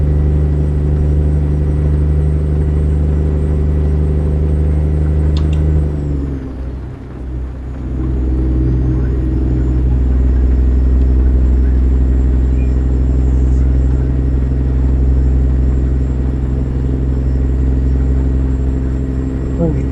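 Steady car engine and tire rumble on a highway, loud and continuous, briefly dipping mid-drive before the road drone returns.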